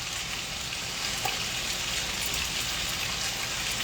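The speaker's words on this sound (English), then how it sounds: "Let them boil." Sliced food boiling in a pot, a steady low bubbling and sizzling hiss that stays even and close throughout with no talk.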